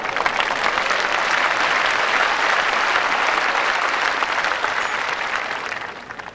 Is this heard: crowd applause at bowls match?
yes